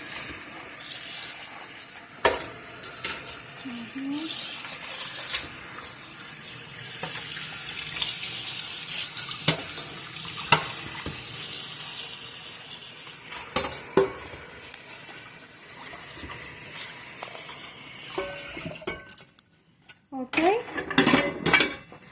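Dishes and cutlery being washed with soap under a running tap in a sink, water saving in mind: steady close hiss of flowing water with scattered clinks of dishes, ending in quieter splashes and drips.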